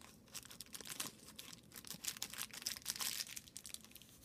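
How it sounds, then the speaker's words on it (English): A small plastic toy bag holding a Squinkies figure is torn and crinkled open by hand, with irregular crackling rustles and sharp tearing bursts close up, no voices. "So, let's open the first little bag here."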